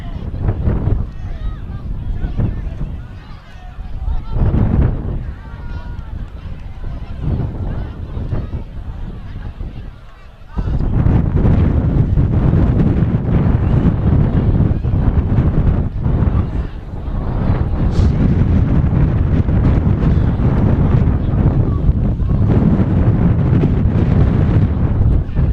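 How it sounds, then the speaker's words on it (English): Strong wind buffets the microphone at a varsity high school football game, a heavy low roar that steps up sharply partway through and stays loud, with faint voices underneath. "This wind is unbelievable."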